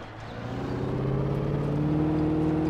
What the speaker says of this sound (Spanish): este auto sí que pega buenos saltones